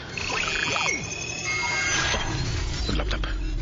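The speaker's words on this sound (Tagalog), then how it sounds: "Ang laptop, may alarm." A laptop alarm sounds in short electronic chirps and tones, moderately loud, with a voice speaking around it.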